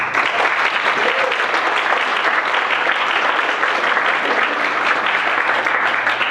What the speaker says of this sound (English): I would like to give him a round of applause